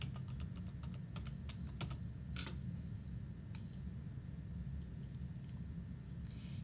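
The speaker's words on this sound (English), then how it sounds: "type the author's surname and change the drop-down menu to author" Close typing on a computer keyboard while searching an academic citation database, with a quick run of irregular key clicks over a steady low hum, then sparser isolated taps.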